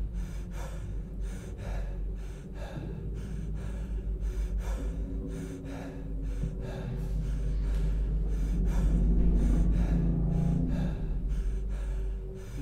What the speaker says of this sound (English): Why does he have to breathe so heavy like that in here?